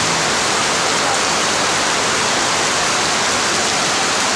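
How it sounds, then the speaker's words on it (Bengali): Heavy rain pours down in a dense, unbroken roar of hiss, loud and steady throughout with no voices. "প্রচুর বৃষ্টি।"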